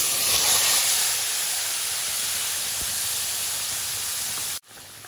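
Onion-tomato paste poured into hot oil with cumin for a soybean curry, a loud hissing sizzle that starts strong, settles to a steady spray-like hiss and cuts off abruptly near the end.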